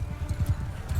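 Horse hooves clip-clopping in Mount & Blade Bannerlord, a brisk steady rhythm of low thudding beats, close and fairly loud, with no talk.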